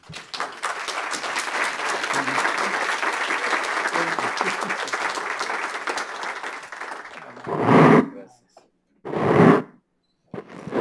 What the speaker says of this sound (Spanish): les pido un aplauso por parte de ustedes